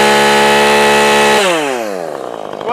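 A ported Husqvarna 450 Rancher chainsaw screams at full rev, loud and close, then drops sharply as the throttle is released and the engine winds down.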